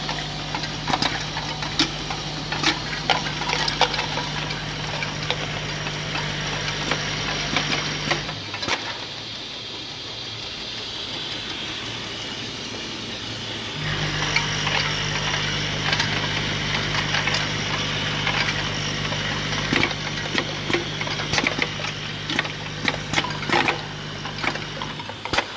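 A used King-Swiftpack counting machine whirs and ticks steadily with rapid mechanical clatter and a low motor hum, goes briefly quieter, then starts up again at full running pace, close and without talk.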